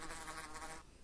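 A bee buzzing in the Minecraft video game, a close, steady insect drone that cuts off abruptly near the end.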